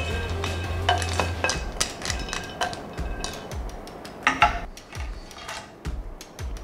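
Basil pesto ingredients sizzle in a pan as a utensil stirs them, giving a steady low hiss broken by irregular close clinks, taps and scrapes of metal against the pan.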